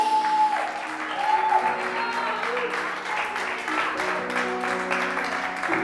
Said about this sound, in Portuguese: E quem acredita nisso, aplaude o nome de Jesus.